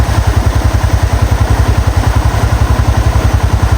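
A motorcycle rides along a forest road on the route to Thirunelli temple near the Wayanad border, its engine thumping in a fast, even pulse, close and loud throughout.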